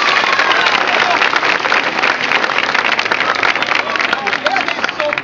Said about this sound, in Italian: Forte, l'applauso!